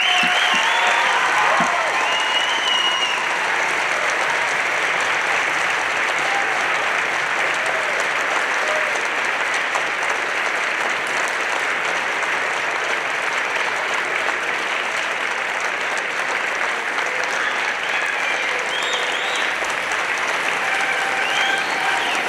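Steady, dense applause from a ceremony audience at an athletic Hall of Fame induction, continuous and even for a long stretch with no break, a broad wash of many hands clapping.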